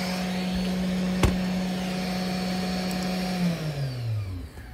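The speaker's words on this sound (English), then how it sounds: "we are definitely controlling the spindle motor speed" A 300 W spindle motor on a 3018-Prover CNC machine runs with a steady, close whine and hum, then its pitch slides downward near the end as the speed drops, with one sharp click partway through.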